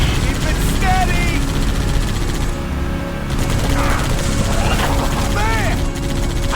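Continuous gunfire and battle noise from Halo 3 ODST form a dense, loud, layered clatter of shots. Voices shout over it throughout.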